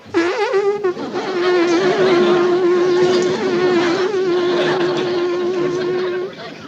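A voice imitates the buzzing of bees with one long, steady, nasal drone held for about five seconds at close range.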